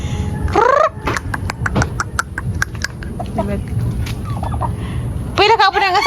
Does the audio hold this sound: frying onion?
no